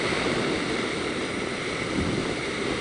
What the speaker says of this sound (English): It's windy as hell, though.